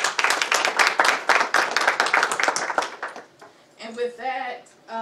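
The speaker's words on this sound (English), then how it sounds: "So, Mr. Tyron, we applaud you." At a city youth council meeting in Douglas, Georgia, an audience claps briskly for about three seconds, the applause thinning out before a person begins speaking.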